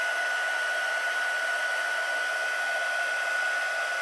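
A heat gun blows hot air in a steady, loud, unbroken roar with a faint constant whine on top, close and alone for the whole stretch.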